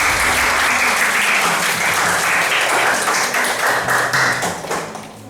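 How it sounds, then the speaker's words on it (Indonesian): A class of students claps their hands in a classroom, producing loud, dense applause close to the recorder that holds steady and then begins to thin out near the end. "Tepuk tangan dong buat kalian."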